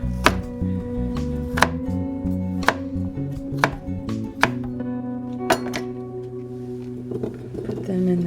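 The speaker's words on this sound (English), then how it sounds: "So just give it a rough easy chop." Rough knife chopping of sweet potatoes on a cutting board, several sharp, evenly spaced chops close up over a steady low background hum.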